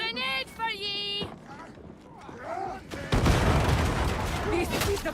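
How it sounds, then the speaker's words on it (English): In the video game Darktide, a thrown grenade detonates after a short pause, a heavy crackling blast with debris that swells and lingers over ongoing combat noise, preceded by a brief voiced line. "A grenade for ye!"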